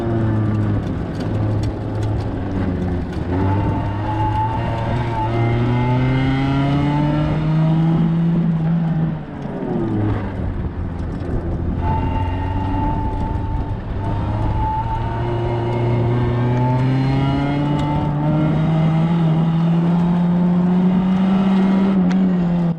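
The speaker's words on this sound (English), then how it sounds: "Watch me drift a front-wheel drive." A Toyota Camry running 0W-8 oil, driven hard around a tight autocross course, its engine revving up and down in repeated rising sweeps with brief drops between, loud and close throughout with no talk.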